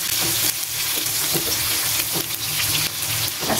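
Oil sizzles and crackles steadily as bitter gourd (ampalaya) is sautéed in a pan, with a few scraping stirs breaking through the dense, close frying hiss.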